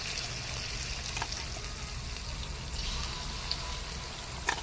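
Onion pakora (piyaji pakori) frying in hot oil, a steady soft sizzle and crackle with a few small pops, moderately close and without talk.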